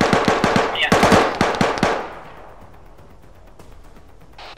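Rapid bursts of automatic gunfire from an ArmA 3 battle crack loudly in quick succession, then stop abruptly. A faint rumbling tail lingers, and one last sharp shot comes right at the end.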